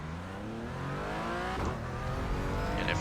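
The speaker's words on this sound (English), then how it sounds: "Feel the engine noise when I revved the engine." Engine noise from a racing sim car revving, a steady dense harmonic drone with rising pitch, loud and continuous with a brief burst of broadband rasp midway; no talk.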